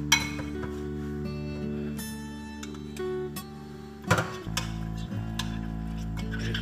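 A spoon works oil and masala together in a pan, giving a few light metallic clinks and one brief scrape over a steady low hum of the cooking setup.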